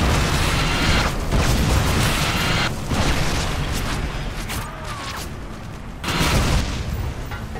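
Airstrike explosions in Modern Warfare 2 on the Boneyard map, a run of heavy booming blasts and rumbling bursts layered over constant game noise, loud and close, swelling again near the end.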